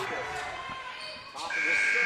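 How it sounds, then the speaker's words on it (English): A scoreboard buzzer in a high school boys basketball gym sounds to end the first half, a sustained electronic tone rising over crowd noise and a commentator's voice. "it will not go as the buzzer sounds, and that's the end of the first half"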